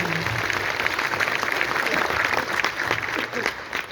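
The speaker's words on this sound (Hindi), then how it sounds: "एक बार जोरदार तालियां होना चाहिए" Audience applause at a women's empowerment gathering, steady dense clapping throughout with a faint voice or music underneath, moderately loud and continuous.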